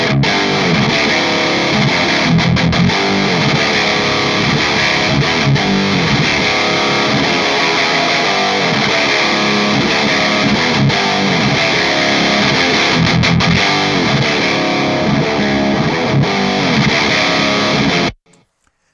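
A heavily distorted electric guitar plays through a captured Mesa dual rectifier amp tone, loud, thick and sustained for about eighteen seconds before cutting off abruptly, with no talking over it.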